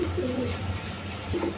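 King pigeons cooing close by, soft low repeated coos under a faint background hum.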